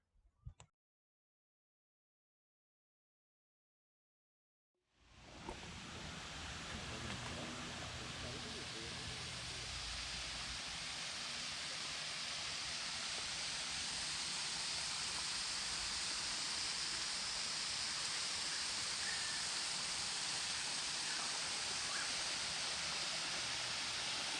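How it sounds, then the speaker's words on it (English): Waterfall near Toowoomba overlooking the Lockyer Valley, a steady loud rushing roar of falling water that starts abruptly after a brief silence and continues unbroken, heard close and alone. "The walkway along the bottom of the waterfall was cool and inviting."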